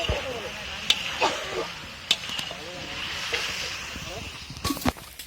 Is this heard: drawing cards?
no